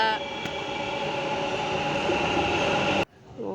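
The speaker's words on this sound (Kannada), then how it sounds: "ಫೈನಲಿ ಮೆಟ್ರೋ ಬಂತು" A metro train rumbles and hums steadily at a platform with a high whine, then the noise cuts off abruptly near the end.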